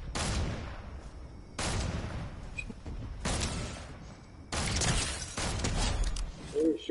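Bursts of gunfire in the video game Fortnite, four loud broadband volleys spaced a second or two apart, each sustained for over a second like rapid automatic fire, with faint background game noise between them.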